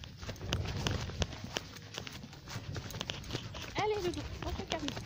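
A ridden horse's hooves clip-clop at a steady walking pace on an outdoor ride, close and clear, while a person talks over the hoofbeats.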